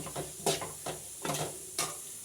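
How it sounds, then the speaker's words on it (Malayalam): Chicken curry sautés in hot oil, with a soft sizzle broken by several quick scraping stirs of a spoon against the pan, faint and close, no talking. "ആ ചിക്കൻ കറി എല്ലാം കൂടെ ഒന്ന് എണ്ണയിലിട്ട് മൂപ്പിച്ചെടുത്തിട്ട് വഴറ്റിയെടുക്കലാണ്"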